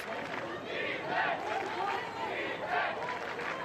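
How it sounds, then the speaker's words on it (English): Spectators at an ultimate frisbee bronze medal game between Germany and Colombia shout and cheer for the defence in swelling waves, a lively crowd roar heard at a distance. "You can hear the crowd starting to get engaged, shouting for the defence"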